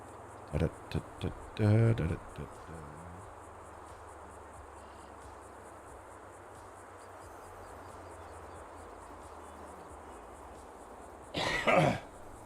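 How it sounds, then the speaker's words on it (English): A few sharp coughs and throat-clearing bursts near the start and again near the end, over a steady background of chirping crickets. "Maybe I'll be done coughing when this is all said and done."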